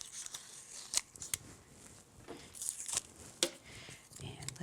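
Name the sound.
removing tape from a craft project with a tool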